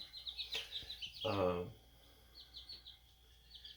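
Homestead birds give high, repeated chirps in short bursts, moderately close, with a brief spoken voice cutting in partway through.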